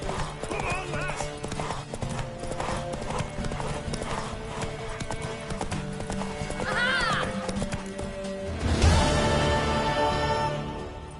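Horse hooves clip-clopping at a gallop in the Witcher 3 video game, a rapid steady rhythm with a neigh partway through and a louder burst near the end, under talk.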